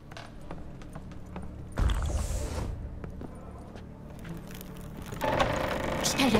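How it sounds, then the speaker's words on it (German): Footsteps in The Witcher 3 inside a haunted house: a run of soft, evenly paced thuds over a low hum of game ambience, with a louder rush of sound swelling in twice. "Ich höre Schritte."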